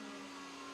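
Cheap $15 heat guns running at a bike build, a steady loud whirring fan drone with a raspy mechanical hum that holds constant through the short stretch.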